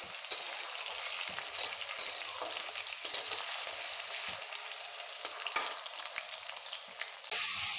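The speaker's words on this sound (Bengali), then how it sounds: "প্রথমে আমি আলুগুলোকে ভেজে নেব।" Potatoes fry in hot oil in a pan, a loud, steady crackling sizzle running unbroken for several seconds with a few faint scrapes of stirring.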